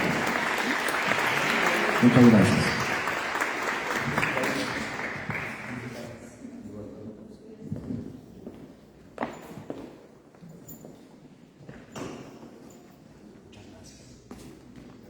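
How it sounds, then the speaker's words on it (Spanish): Audience applause for a panel of presenters at a social health innovation talk, a dense burst of clapping in the first seconds that thins into scattered claps, footsteps and shuffling, with a brief spoken thanks. "quisiera pedirles de nuevo un aplauso a nuestros panelistas"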